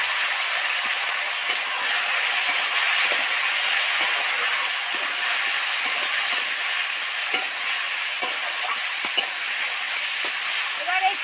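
Pieces of yam and potato sizzle steadily in hot oil in a pan with fried onion and tomato, a loud continuous frying hiss with small crackles and occasional stirring knocks throughout.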